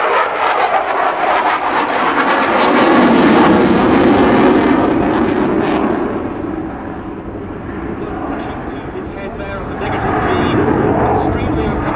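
A Eurofighter Typhoon jet roars loudly during a flying display at Duxford airshow, a broad sustained engine rumble that swells and recedes as it turns, with a voice talking over it.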